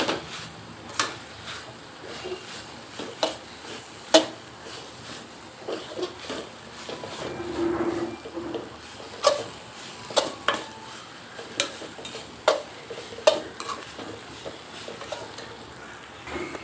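Spoon scraping and stirring bread manchurian masala in a pan, with a steady run of light knocks and clinks against the pan at irregular intervals, close and moderately quiet, no talking.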